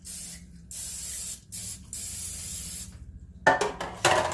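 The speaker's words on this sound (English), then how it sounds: "I'm spraying it with a little olive oil." Olive oil cooking spray hisses onto baking pans in several separate bursts, each a close, steady spray of a second or so with short gaps between, followed by clattering handling noise near the end.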